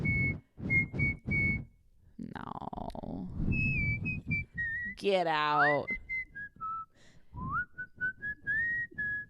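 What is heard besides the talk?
nose whistle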